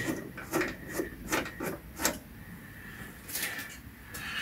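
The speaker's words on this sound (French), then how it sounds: "on utilise la molette qui est au-dessus pour le dévisser." Metal knurled wheel on top of a Parkside rivet-nut tool being turned by hand to unscrew, giving a series of short rasping, ratcheting scrapes in bursts at close range, with no talking.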